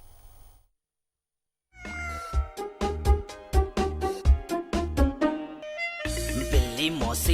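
A cartoon cat meows in a children's rhyme setting, a series of short, tonal, rhythmic calls over music-like harmonic backing, loud and close, with a brighter burst toward the end.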